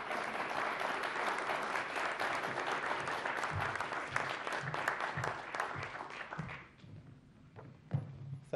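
Audience applause at the National Archives welcoming author Richard Brookhiser, steady dense clapping from a crowd that tapers off near the end, followed by a few isolated claps and thumps.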